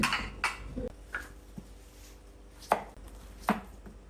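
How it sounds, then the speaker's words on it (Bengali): A knife chops through sweet pumpkin on a board in sharp, distinct thuds at an uneven, unhurried pace, close and fairly loud. "এই মিষ্টি মিষ্টি কুমড়াটা দেখেন আমি যে এভাবে কেটে নিচ্ছি"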